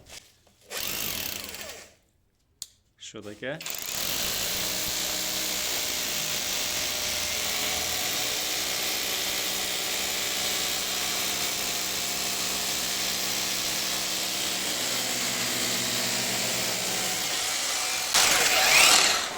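A loud WOSAI cordless rotary hammer roars continuously for about fifteen seconds drilling concrete, after a few short starts and a quick spoken question, ending with a harsher burst.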